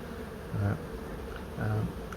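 Honey bees hum and buzz around an old hive being relocated, a steady close drone with two louder swells as bees pass near, quiet and without other sounds.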